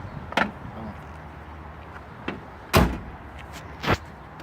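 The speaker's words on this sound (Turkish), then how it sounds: "tamir ettiğimiz kapıyı açalım abi bakalım" A car door with a newly replaced handle is opened and shut, producing several sharp mechanical clunks and a louder latch thud, spaced apart over quiet workshop background.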